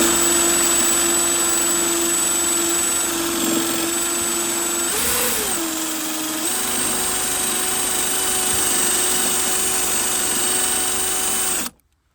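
A power drill whines steadily at close range for several seconds, its pitch dipping briefly as it bites into a spot weld on a GMC Sierra Denali's metal panel, then it cuts off.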